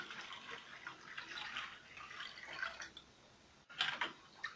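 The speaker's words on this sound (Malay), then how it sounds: "Rebusan tetel tadi, the beef stock, so kita masukkan." Beef stock from simmered beef tetel being poured into a cooking pot for soup, a quiet continuous liquid stream and splashing close by, ending with a brief louder splash.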